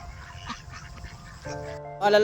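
Ducks at a duck farm in a rice field, with brief nasal quacks and honks over a noisy outdoor background, a louder call rising near the end.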